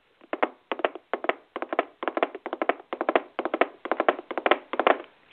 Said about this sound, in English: I clap